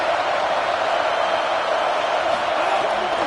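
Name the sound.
home crowd cheering at football game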